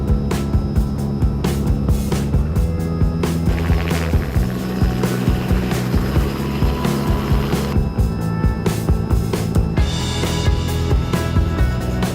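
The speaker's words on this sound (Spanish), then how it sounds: "desde el aire, desde un viaje en helicóptero" Helicopter in flight over Punta Cana, a loud, steady rotor and engine drone with rhythmic blade thumping that continues throughout with no talking.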